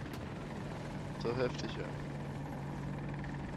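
Steady whirring rotor drone of an AH-64 Apache attack helicopter in a multiplayer video game, heard continuously in the background while someone speaks German briefly over it.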